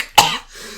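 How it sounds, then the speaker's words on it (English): A single sharp, close cough bursts out and quickly tails off, with a faint throaty rasp trailing behind it. "he just dabs and coughs into his elbow"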